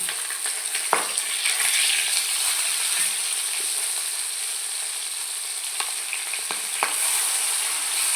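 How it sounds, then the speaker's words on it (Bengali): Pangas fish pieces fry in oil while being gently flipped, a loud constant sizzle broken by several sharp scrapes and taps of the spatula. "এবার মাছগুলো এক পাট ভাজা হয়ে গেছে আমি এবার মাছগুলোকে আস্তে আস্তে উল্টিয়ে দিচ্ছি"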